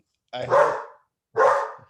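A dog barks twice indoors, two loud close woofs about a second apart, with a person speaking briefly in between.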